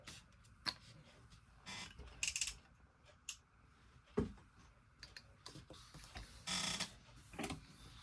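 Sewing machine topstitching a crossbody bag, with irregular bursts of mechanical whirring and clicking separated by quiet pauses as the stitching starts and stops, close and fairly faint.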